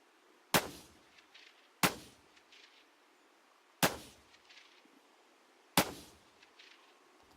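Four evenly spaced gunshots striking chest armor in the video game Battlegrounds, each a sharp loud crack with a short decaying tail, separated by quiet gaps.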